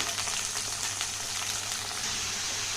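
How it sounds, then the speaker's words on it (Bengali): Chopped vegetables for Malabar spinach frying in hot oil in a pan, giving off water as they cook: a steady, loud, even sizzle that stays continuous and alone throughout. "তো সবজিটাকে ভালো করে ভেজে নেব, কিন্তু এটা দিয়ে জল বেরোচ্ছে।"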